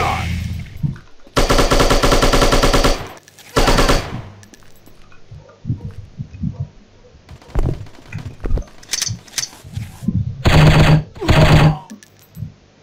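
M4 carbine automatic fire in the Striker shooting video game: loud, close bursts of rapid shots with pauses in between, mixed with weapon handling clicks and softer game sounds, ending in another pair of bursts.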